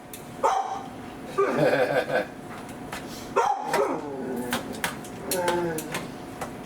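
A dog barks and whines in short bursts close by, begging while roasted pulled pork is being prepared, with someone talking over it.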